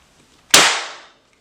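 A primer firing in a Smith & Wesson SD9VE pistol gives one sharp, loud crack that decays over about half a second, alone and close.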